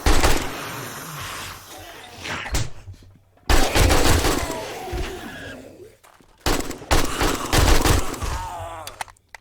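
Loud bursts of machine gun fire ring out in the survival video game 7 Days to Die, coming in three long rapid volleys separated by brief pauses.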